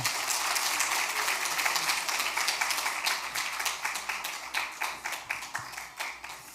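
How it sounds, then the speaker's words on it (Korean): A church congregation applauds a visiting missionary pastor, a dense wash of hand claps that thins toward the end into scattered individual claps, moderately loud in an indoor sanctuary with no talk over it. "한번 박수로 모시겠습니다"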